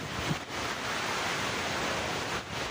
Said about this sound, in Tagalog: Binayo rin ng malakas na hangin at ulan ang Dinapigue, Isabela.